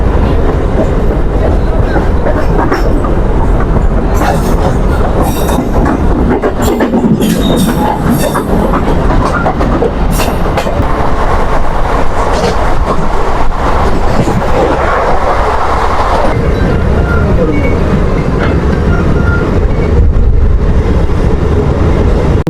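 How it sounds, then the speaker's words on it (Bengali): A Bardhaman–Asansol MEMU train rolls into Kalipahari railway station, a loud continuous rumble of wheels and carriages with clacking and brief squeals, heard from on board. "আমাদের ট্রেন কিন্তু এসে পড়েছে কালীপাড়ি রেলওয়ে স্টেশনের দু নম্বর প্ল্যাটফর্মে"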